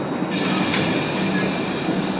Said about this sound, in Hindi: ये मालगाड़ी का डिपार्चर हो रहा है।